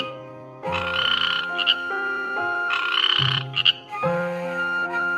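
Loud, buzzing cartoon frog croaks from an Odia animated tale come in repeated drawn-out bursts with brief gaps, close and unaccompanied by talk.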